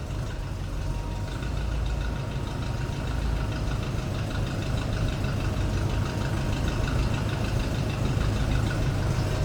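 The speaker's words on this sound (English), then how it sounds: "Sounding good, nothing too crazy for exhaust. Nice little rumble out of that small block." A 1936 Ford Deluxe Tudor sedan street rod's small block V8 idles steadily, giving a close, continuous low exhaust rumble with an even pulsing beat throughout.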